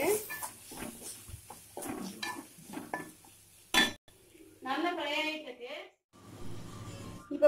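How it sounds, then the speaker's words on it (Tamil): Masala spices fry in a pan while a utensil scrapes and clinks as it stirs, giving soft sizzling and metallic knocks amid quiet speech. "இப்போ பார்த்தீங்கன்னா இந்த மசாலாலாம் நல்லா ஃப்ரை ஆகிடுது."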